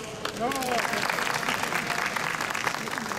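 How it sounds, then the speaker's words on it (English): Steady applause from an audience at a sister-city kiosk unveiling ceremony in Atlanta, a continuous wash of clapping that runs the whole time, with a voice heard briefly near the start. "I want to give you all a round of applause."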